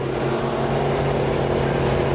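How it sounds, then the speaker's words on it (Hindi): A car engine held at high, strained revs, a loud continuous roar with a steady droning pitch throughout and no voices. "जस्टिन, इंजन फटने वाला है, पैर हटा दो।"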